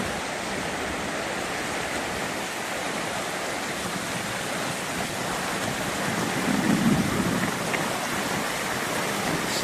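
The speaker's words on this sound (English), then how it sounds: "Something very soothing about a running river" A river runs through the Albanian countryside with a constant full rush of flowing water, steady and close throughout, swelling slightly toward the end.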